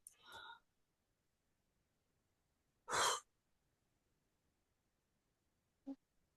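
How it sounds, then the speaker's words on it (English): Deep breath taken during a guided breathing exercise: a short inhale, then a loud exhaled sigh, then a faint brief breath, close and quiet amid silence. "take a big deep breath"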